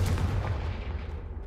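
A deep booming spell blast from the Confringo spell in the Hogwarts Legacy video game, a single heavy rumbling explosion that starts loud and slowly fades over a second and a half.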